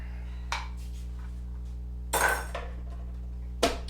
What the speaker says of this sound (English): Now, got to put the lid on it and get it started.